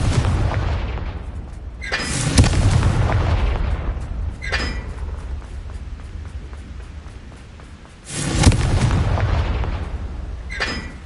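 Two heavy booming spell blasts from the Confringo fire spell in the game Hogwarts Legacy, each a loud burst with a rumbling tail, spaced several seconds apart, with low steady ambience between them.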